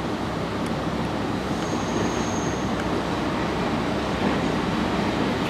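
A diesel train, locomotive 43196, rumbles steadily as it departs London Paddington station, a constant low mechanical drone with a faint high squeal partway through, no voices.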